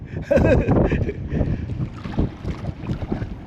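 Strong wind buffets the microphone at sea beside a small rowed boat, a loud broadband roar with gusty swells, and voices talk intermittently over it.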